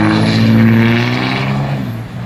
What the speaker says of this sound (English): That Cummins was sweet.